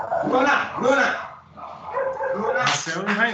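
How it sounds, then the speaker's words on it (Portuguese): A pet dog barks and whimpers at home, its yips overlapping with steady nearby talk throughout. "Marcelo enraivou com o cachorro."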